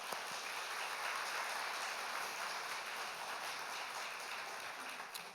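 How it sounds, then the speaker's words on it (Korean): A church congregation gives faint, distant applause to welcome a visiting elder during a worship service, a soft, continuous patter of clapping held at an even level before easing off at the end. "잠시 자리에서 일어나시면 우리 박수로 환영하고 감사하도록 하겠습니다."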